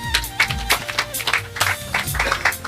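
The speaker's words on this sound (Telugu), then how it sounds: "గట్టిగా చప్పట్లు" A congregation claps loudly together in rhythmic, uneven bursts, close and busy, with voices mixed in underneath.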